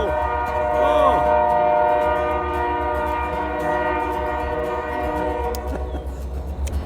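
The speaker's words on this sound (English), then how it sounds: "train." A train passes and sounds its horn in sustained, loud tonal blasts that hold steady for several seconds over a low rumble, with brief faint voices nearby.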